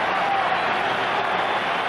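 A baseball crowd at the 1981 World Series applauding and cheering as a steady, broad wash of noise at moderate volume with no distinct individual claps.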